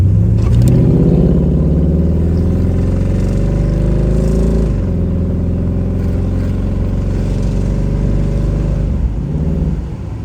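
A 1969 Pontiac Firebird convertible, top down, drives steadily with a loud, close engine drone that dips and rises as it shifts through the gears around the midpoint and again near the end, with no talking.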